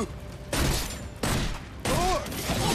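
Rapid bursts of weapon fire in the video game Orcs Must Die 3, three loud broadband barrages following one another, with game effects and faint talk underneath.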